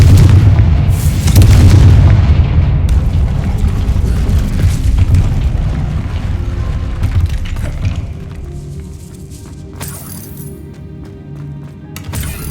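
Deep booming blasts from the Confringo spell in the video game Hogwarts Legacy, loud and rumbling, decaying into lingering echoes and crackling debris.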